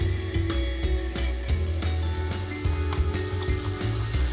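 Cooked rice hits hot oil in a pan, giving a loud continuous sizzle with crackles and occasional stirring scrapes, over a low background hum.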